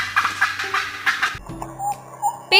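A turkey's gobbling call, a short burst of rapid warbling notes heard up close and fairly loud, standing alone without any talk.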